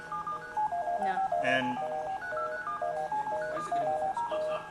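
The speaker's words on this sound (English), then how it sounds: "So the number we're actually dialing is" Telephone keypad DTMF tones ring out in a quick sequence of short beeps at steady pace during a demonstration of dialing a ten-digit number, fairly faint, with a brief spoken word at the start.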